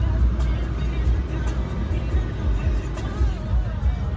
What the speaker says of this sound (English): the traffic in front of me, it look disgusting